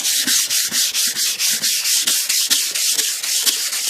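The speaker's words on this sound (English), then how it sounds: "Then I just keep on sanding." Hand sanding scrapes over the paint of a 1988 Cadillac DeVille in fast, even back-and-forth strokes, close and steady with no talk.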